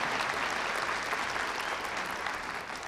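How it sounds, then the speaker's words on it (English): Dense, sustained applause from a large audience at a winter graduate commencement ceremony, steady and even throughout with no talk over it. "I think that deserves like 2 double claps, right?"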